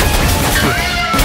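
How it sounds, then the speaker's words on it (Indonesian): A brief cartoonish cat meow rises over dense gunfire and game effects, sounding when an enemy takes damage in the shooter Plants vs Zombies: Garden Warfare 2. "Ketika kena damage dia kucing."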